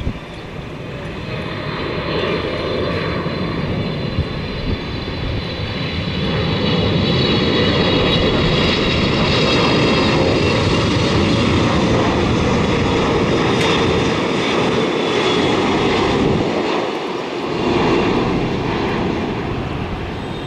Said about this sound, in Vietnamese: chiếc máy bay này đang bước vào hạ cánh tại sân bay Tân Sơn Nhất